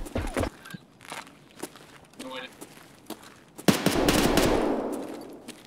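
Gunfire in the Escape from Tarkov video game, with scattered footsteps and thuds leading into a sudden loud burst of shots and a sustained roar of fire near the end, as players talk over it.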